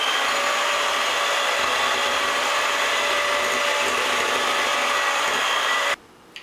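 Electric mixer creaming butter and sugar for lemon lavender cookies, a steady loud whirring motor drone running continuously before cutting off abruptly near the end.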